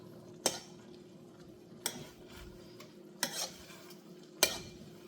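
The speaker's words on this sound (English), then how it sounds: "Okay, now that you see the rice looks like this, you can start to give that a good mix" Spoon scraping through cooked rice in a pot for arroz con habichuelas, four separate sharp stirring strokes spaced about a second apart over a low steady background hum, fairly quiet and close.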